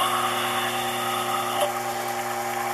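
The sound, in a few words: drill bit drilling hole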